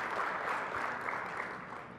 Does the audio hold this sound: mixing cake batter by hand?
no